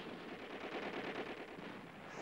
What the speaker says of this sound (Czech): Kulomet.